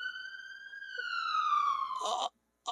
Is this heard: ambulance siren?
yes